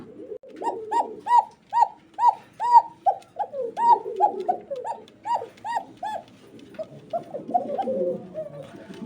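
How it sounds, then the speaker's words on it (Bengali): A pair of black pigeons coos in a clear, repeated series of rising and falling calls, close and fairly loud, the rhythm loosening into softer murmuring toward the end. "আসলে ডাক দেখানোর জন্য একটু ওয়েট করতেছিলাম তো ডাকটা দেখেন"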